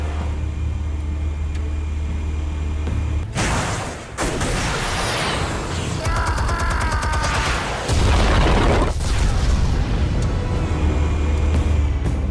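Explosive charges detonating in a Batman video game: several loud, heavy booms with rumbling debris burst out over a constant low engine-like drone, one blast near the start and more around the middle, with no talk.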